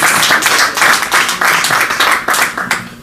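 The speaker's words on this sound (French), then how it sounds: "Applaudissons l'artiste." An audience at a press conference applauds the Congolese music star, with loud, dense clapping that carries on steadily throughout with no talking over it.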